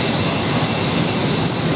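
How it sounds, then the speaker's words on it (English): Qantas airliner arriving from Sydney at Brisbane Airport, a loud, steady roar of jet engines filling the whole brief stretch, close by and with no talk over it. "Qantas 512 coming in there on the banana run, coming in from Sydney"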